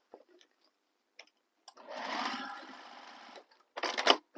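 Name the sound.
sewing machine stitching a handbag seam open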